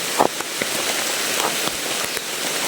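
Steady rain pattering on a surface, with scattered louder drops tapping through the continuous hiss.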